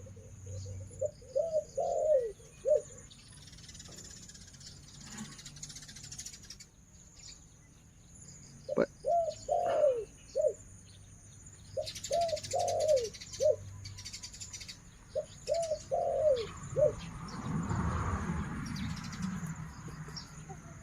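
A female spotted dove, a wild bird, coos in short repeated phrases, several bursts separated by pauses, with faint insect buzzing and distant chirps in the background.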